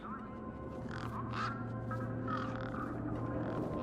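A big, fat purple bird in the Beyond a Steel Sky video game gives a run of short, raspy caws. The calls repeat in several bursts over a low, constant hum.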